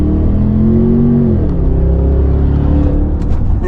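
A 2023 Range Rover Vogue P530 with a 4.4-litre V8 and stainless exhaust, valves open, gives a deep, loud, close rumble that swells in a rev and then eases back to a throaty idle.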